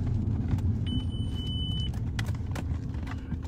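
A car drives through Clacton town centre with a steady low engine and road rumble throughout, and a brief high electronic tone sounds for about a second partway through.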